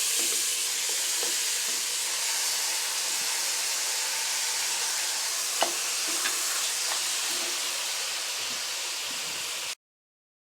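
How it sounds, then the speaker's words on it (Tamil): Mutton pieces sizzle and fry in spiced masala with red chilli powder in a pan, a steady loud hiss with faint stirring scrapes throughout, ending abruptly. "இப்போ நம்ம மட்டனே இதில் சேர்த்துடலாம்"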